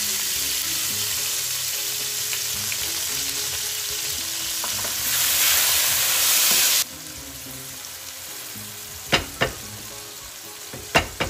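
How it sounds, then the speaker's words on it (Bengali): Chopped onion fries in a pan with a continuous close sizzle that swells briefly louder, then settles, followed by a few sharp utensil knocks near the end. "পেঁয়াজটা একটু ভাজা হতে থাক"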